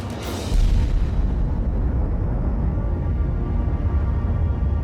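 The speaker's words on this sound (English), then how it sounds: "America's first practical H-bomb. If it works, a deliverable thermonuclear weapon." A thermonuclear H-bomb test explodes over the Pacific in March 1954, America's first practical deliverable hydrogen weapon. After a sharp onset, a deep, loud roar rolls on steadily with no voices over it.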